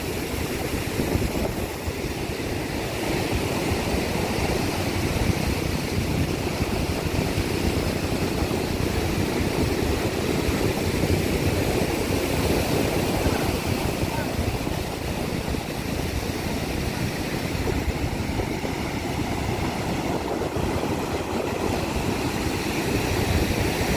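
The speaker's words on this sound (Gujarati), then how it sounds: "કેવો મસ્ત દરિયો છે." A rough sea at Madhavpur beach surges onto the shore in a continuous, loud, close roar of breaking waves and wind-blown surf, with no one talking.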